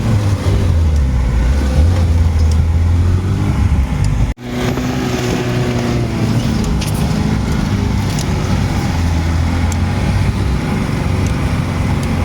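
A 1991 Lada Niva grinds along a snowy mountain track on Çataldağ, its engine a steady low drone with tyre and body rumble, close and loud throughout, with a brief dropout partway through.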